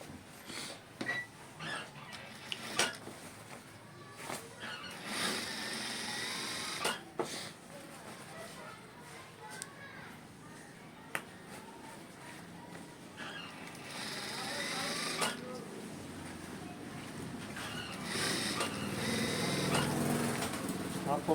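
An electric sewing machine stitches a shirt sleeve in short, uneven runs of mechanical whirring and clatter, fairly close, while a person talks steadily over it.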